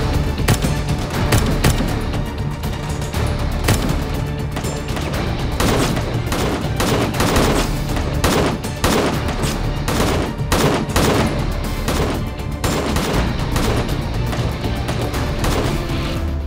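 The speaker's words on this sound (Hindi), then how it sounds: "फायरिंग करना शुरू कर दो" Dense bursts of gunfire crackle nonstop in a dramatized armed raid, loud and close, with rapid overlapping shots and booms forming a continuous fusillade and no speech.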